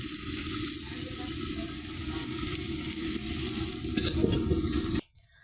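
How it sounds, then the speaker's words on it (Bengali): Eggplant slices frying in a pan beside a pot of khichuri, a dense continuous sizzle with a low rumbling undertone, steady for five seconds before cutting off sharply; nobody speaks. "আর এর পাশে আমি এতে বেগুন ভাজা দিয়েছি"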